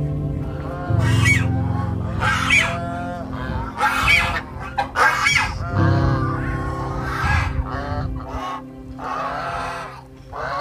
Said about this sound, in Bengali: এখানে কত সুন্দর সুন্দর রাজহাঁস আছে